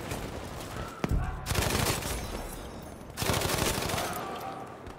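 M1922 machine gun fired from the hip in Battlefield 5, two sustained bursts of rapid automatic fire separated by a short pause, loud and close, with a single sharp shot just before the first burst.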